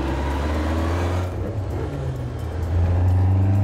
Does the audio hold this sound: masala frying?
no